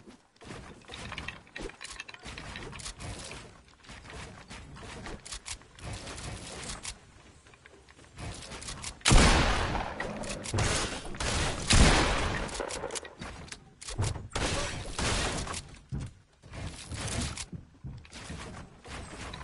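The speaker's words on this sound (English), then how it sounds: "Wait, who is shooting?" Scattered gunshots in a PS4 game, mostly moderate with a louder cluster partway through, amid game noise and occasional talk.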